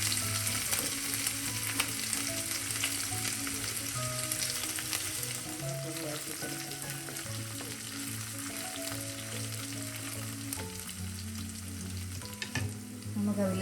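Crushed garlic, ginger and green chili fry in hot oil with a steady, close sizzle, with faint stirring scrapes and low hum underneath, running unbroken throughout.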